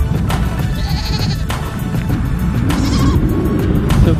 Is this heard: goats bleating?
yes